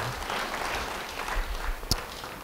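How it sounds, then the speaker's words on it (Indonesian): Congregation clapping in a church during a sermon, a sustained crowd applause at moderate volume with a sharp isolated clap or knock near the end. "Yang mau beri tepuk tangan bagi dia."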